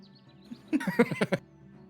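Call of a flightless nocturnal parrot in the Wingspan board game, a short burst of several raspy, rapid croaking notes at moderate volume, set against quiet background with no talking.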